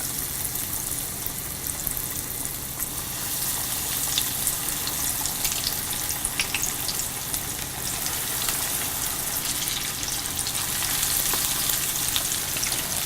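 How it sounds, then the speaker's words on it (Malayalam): Chicken pieces deep frying in a pan of hot oil over a low flame, a steady broad sizzle with fine crackling that holds evenly throughout, no voices present. "ചൂടായി കഴിയുമ്പോൾ ചിക്കൻ പീസിട്ട് നന്നായി ഡീപ് ഫ്രൈ ചെയ്തെടുക്കുക"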